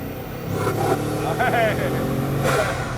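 A car engine pulled hard at full throttle with sequential turbochargers coming on in stages, a loud rising roar and whine building over a few seconds, with someone talking over it.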